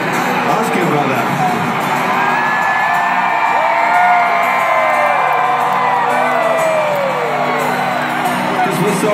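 A large stadium crowd at a Coldplay concert in Foxborough, Massachusetts, cheering, whooping and yelling continuously for several seconds, loud and dense, with individual shouts rising out of the roar.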